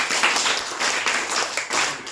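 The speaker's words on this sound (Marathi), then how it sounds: "आपण पुन्हा एकदा जोरदार टाळ्या वाजूया" Audience at a ceremony clapping together, a dense, steady round of applause at moderate distance that continues without pause throughout.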